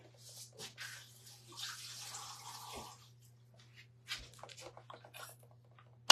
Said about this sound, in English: And then I'm going to wash the leaves really quickly.